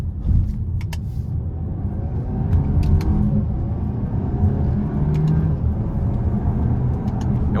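A 2022 Volkswagen Arteon SEL R-Line with a 2.0-liter turbo engine and dual-clutch gearbox drives in sport mode. From inside the cabin comes a steady, loud low engine rumble with faint ticks and clicks above it.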